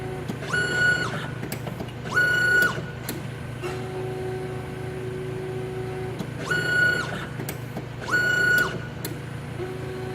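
A Royce A45 pick and place machine hums steadily while whirring motor bursts repeat at regular intervals, with brief clicks between them.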